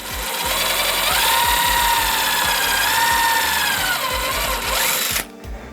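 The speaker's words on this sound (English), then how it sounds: "I'm gonna drill in right here, making sure I hit a stud." A power drill whines loudly and continuously as it bores into a wall stud while climbing panels are installed, the motor pitch wavering under load before cutting off abruptly near the end.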